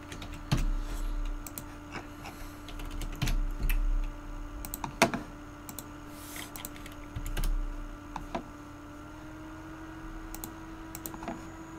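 Typing on a computer keyboard at a desk while coding MUGEN, scattered clicks and short bursts of keystrokes, close and moderately quiet over a steady electronic hum.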